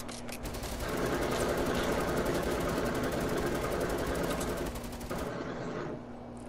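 Rapid automatic gunfire in Fortnite hitting player-built structures: a continuous, fast mechanical rattle of shots lasting about five seconds, steady and fairly loud, with a low hum underneath before it cuts off.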